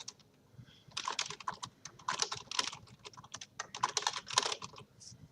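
Rapid typing on a computer keyboard comes in uneven bursts of close, crisp key clicks, with short pauses between runs and no talking.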